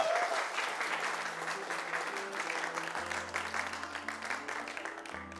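Audience applause for the performer on a Burkina Faso TV entertainment show, a steady dense wash of clapping throughout with a low musical tone underneath.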